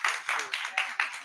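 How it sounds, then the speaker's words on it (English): An audience applauds a speaker with a moderate, steady wash of clapping that pulses slightly, mid-loud and fairly close. "Let's get that a round of applause."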